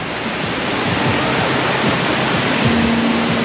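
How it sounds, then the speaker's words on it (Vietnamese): A stream flows steadily at a rural campsite in Vũng Tàu, producing a constant close wash of rushing water that fills the whole stretch, with no talking. "Suối, nghe tiếng suối."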